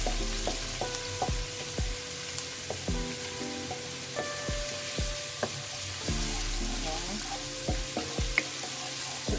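Ginger sautés in a pan for creamy sopas with a steady, moderate sizzle, broken by frequent light clinks and scrapes of a utensil stirring against the pan.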